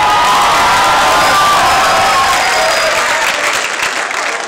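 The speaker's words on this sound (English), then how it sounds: "round of applause" A school music showcase audience applauds a senior keyboard player: loud, dense, sustained clapping mixed with cheers and whoops from a crowd of young people.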